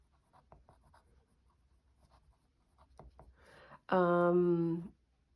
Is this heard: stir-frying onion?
no